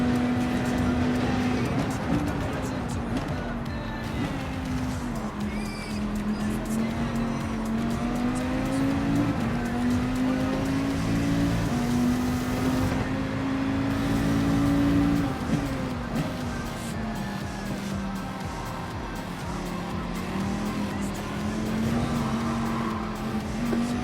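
A race car's engine drones continuously in a racing video game lap at Daytona, its pitch rising and falling with throttle and shifts, steady and fairly loud with no voices.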